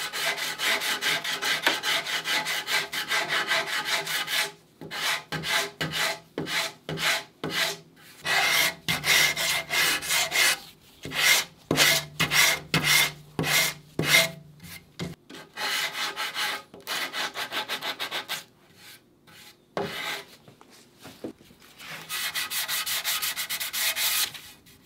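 Wooden boat frames are sanded by hand with a curved longboard, long abrasive rubbing strokes repeated in bursts with brief pauses, close and fairly loud, no voices.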